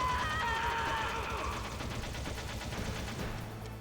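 Gunfire in Metal Gear Solid on the PS1, a dense burst of rapid shots and booming echoes, loud at first and then tailing off into a rumbling decay.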